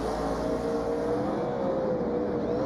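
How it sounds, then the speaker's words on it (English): A NASCAR Xfinity race car holds a steady, roaring engine drone during a celebration burnout after a Go Bowling 250 win, loud and continuous with a faint whining tone. "He's getting good at burnouts"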